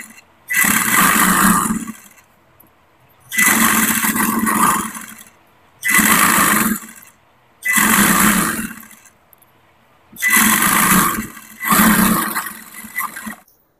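An electric sewing machine stitches petticoat cloth in loud, close bursts of steady whirring, six runs of one to two seconds each separated by short pauses, with no talking.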